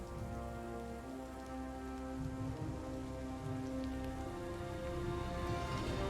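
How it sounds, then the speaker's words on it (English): Steady rain falls continuously in a video game, a dense even patter that holds loud for the whole stretch over faint sustained background tones. "Oh, it's raining."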